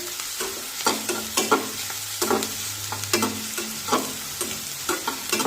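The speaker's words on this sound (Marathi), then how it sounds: "कांद्याला सतत परतत राहायचं" Onions sautéed in a pan for a farsan vegetable dish, a steady close sizzle broken by regular scraping strokes of the spatula every half second or so, with no voices.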